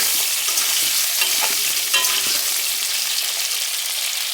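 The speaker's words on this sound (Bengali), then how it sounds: "বেগুনগুলো একটু ভেজে নেব। আলু, এগুলোও ভেজে নিতে হবে, সব একসঙ্গে ভেজে নেব।" Oil sizzles steadily as eggplant and potatoes fry in a pan, with a few soft scraping stirs breaking through the constant crackle.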